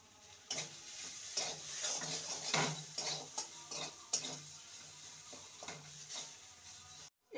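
Grated potato is stirred through a hot pan of fried ingredients, with repeated scraping and clattering spoon strokes over a steady close sizzle.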